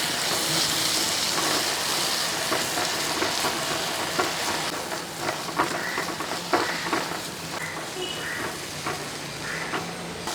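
Beaten egg with a pinch of salt is stirred in a frying pan for an egg rice dish, a steady sizzle with repeated close scraping strokes of a spatula against the pan.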